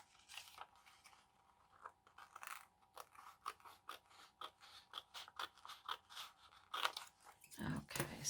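Scissors snip through a white document folder, cutting out small pieces in a quick run of crisp, close clicking cuts with brief pauses, the paper crunching faintly between snips.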